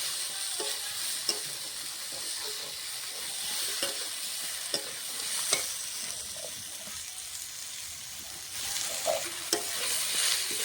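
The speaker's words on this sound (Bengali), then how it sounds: "আলুর সঙ্গে ব্রকলিটা কিছুক্ষণ ভেজে নিয়ে মশলাগুলো দিয়ে দেবো" Potato and broccoli fry in a pan with a constant sizzle, while a spatula stirs them and gives repeated scraping clicks at close range.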